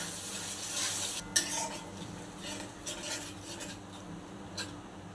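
Spices and tomato puree sautéing in oil for a capsicum curry, with a soft continuous sizzle under repeated close scraping and stirring of a spoon against the pan, including one sharper clink.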